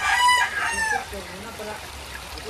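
A rooster crows loudly at the start among a flock of backyard chickens in Montalban, Rizal during a typhoon, followed by softer clucks and murmurs that fade into a steady background.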